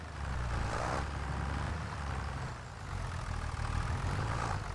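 A tractor engine in Farming Simulator on Ronîda Island rumbles low and steady, faint and continuous with slight dips in loudness and no talking over it.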